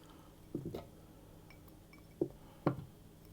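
Butter tossed into dry ingredients in a bowl for pistachio and parmesan sable cookies, three soft, brief clinks and scrapes against the bowl in a quiet room.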